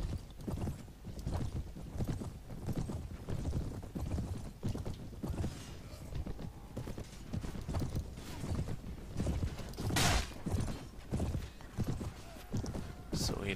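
Steady clip-clop of horse hooves galloping in the Mount and Blade Prophesy of Pendor game, a continuous rhythmic drumming mid-battle with occasional whinnies and sharp clashes layered over it, loud throughout.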